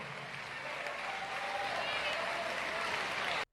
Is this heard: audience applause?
yes